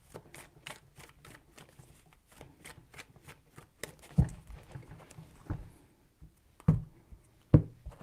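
Tarot cards are shuffled close up: a quick, even run of light flicking clicks, then slower handling with a few dull thumps of the deck being tapped down.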